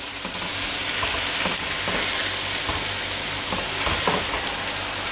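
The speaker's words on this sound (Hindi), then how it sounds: "ये डालने के बाद आप इसको हीट को करेंगे स्लो और एक मिनट तक इनको अंदर पकाएंगे।" Tomato masala for kofta curry cooks in a pan over low heat, giving a steady, dense sizzle and crackle with a few soft stirring bumps, close and continuous throughout.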